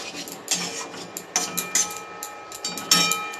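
Okra being stirred with raw mustard oil in a pan, a series of irregular metallic scrapes and clinks of a spoon against the pan over a faint sizzle, close up and without speech.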